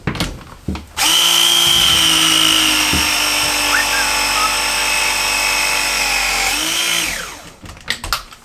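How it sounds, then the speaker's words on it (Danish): A battery pipe press machine crimps fittings on underfloor heating pipes, a loud close whirring motor drone running steadily for about six seconds, then winding down, with clicks and handling noises before and after. "Så vi tager bare vores pressemaskine, sætter på her."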